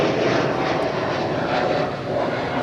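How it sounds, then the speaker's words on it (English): KLM jet engines roar at Schiphol runway 24 as a wide-body departs, a broad steady rumble heard from a distance, loud and unbroken. "This is going to be KLM flight 615, which is coming home to Captain Jerry's hometown, Portland in Oregon."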